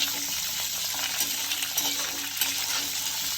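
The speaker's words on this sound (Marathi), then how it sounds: "मी हे तेलामध्ये चांगलं एक दोन मिनिट परतून घेतलेलं आहे" Chopped coconut sautéing in hot oil for chutney gives a steady, close sizzle with faint scraping from stirring, and no voices.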